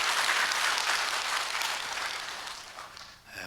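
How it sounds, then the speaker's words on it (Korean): A church congregation at a dawn prayer service applauds the praise team, a dense wash of clapping that holds steady, then thins and fades near the end, with no voices over it. "우리 쉐키나 앞으로의 찬양을 위해서 박수 한번 해주시면 고맙겠습니다."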